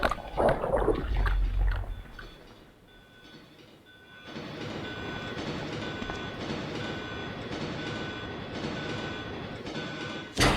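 A moving train in the 1998 video game Resident Evil 2 rumbles steadily with rhythmic rail clatter, after a brief louder burst of in-game noise at the start and a short quieter dip.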